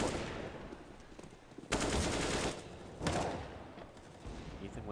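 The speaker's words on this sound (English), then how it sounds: "Devo guns him down with the rifle" Rifle gunfire in CS:GO during an esports tournament final, heard as loud bursts of rapid automatic shots separated by short pauses, with no talk over it.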